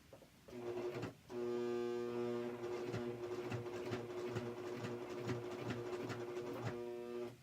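A heavy-duty sewing machine with a thick needle labors through a leather jacket zipper, giving a steady droning hum with strong tonal harmonics and faint rapid stitching clicks, broken by a brief pause near the start.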